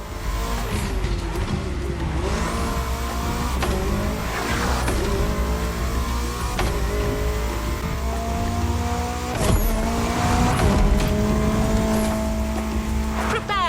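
Cars racing at night through the streets of Honolulu in the video game The Crew Motorfest, with loud engines revving and shifting up, tire squeals and cars passing close by in a continuous stream.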